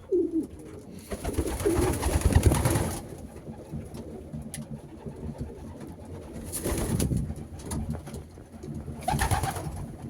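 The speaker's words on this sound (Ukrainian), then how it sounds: "Всі цьогорічні голуби" Young homing pigeons coo in soft, low bursts in a loft at evening, with rustling and fluttering swelling up a few times, close by and otherwise quiet.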